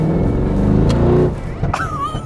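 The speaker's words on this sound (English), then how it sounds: "he said it does have some form of pop and bang crackle back" A Mercedes C63 runs close by with a loud, deep engine drone that drops off and then gives a few sharp exhaust pops near the end.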